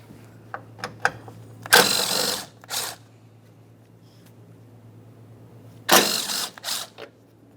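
5.5mm Allen head mounting bolts come out of a panel on a 2012-2015 Honda Civic 1.8L with a few light clicks and two bursts of rapid ratcheting, close up, against a faint steady hum.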